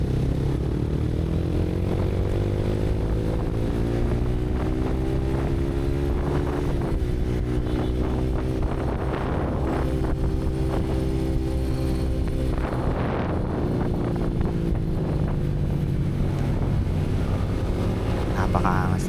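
Honda X-ADV 750cc big bikes ride by with a steady, rumbling engine drone that swells and fades as they pass, heavily buffeted by wind noise on the microphone throughout.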